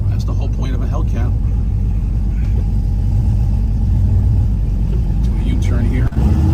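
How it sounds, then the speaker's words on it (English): A Dodge Hellcat muscle car with a 3-speed 727 automatic drives along, its engine a steady, fairly subdued low rumble heard from inside the cabin, with a voice talking over it throughout. "This thing is quiet as can be as well. That's the whole point of a Hellcat."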